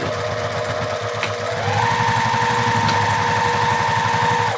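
A sewing machine stitches through a bag strap with lining, a fast steady mechanical chatter that speeds up partway through and stays loud and close, with no talking.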